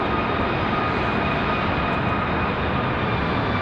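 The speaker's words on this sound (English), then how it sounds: "So I've got a Cessna Citation XLS Plus on final coming in from Fort Myers, Florida." Cessna Citation XLS Plus business jet on final approach at Raleigh-Durham, a steady, fairly loud jet roar with a faint high whine running through it, continuous for the whole stretch.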